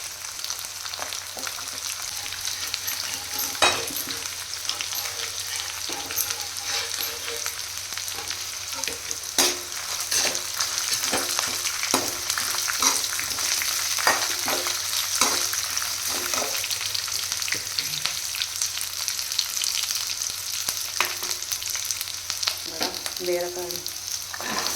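Dried red chillies fry in a pan for ridge gourd chutney, with a steady, continuous sizzle and frequent close clicks and scrapes of a stirring utensil throughout.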